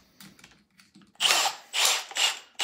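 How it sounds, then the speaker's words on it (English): Power drill boring a 19/64 bit hole into a wooden furniture piece to fit a new handle, three loud whirring bursts after quieter starting taps, close up with no voices. "when you start out the drilling, start it out slow so you don't, again, it doesn't chip the wood"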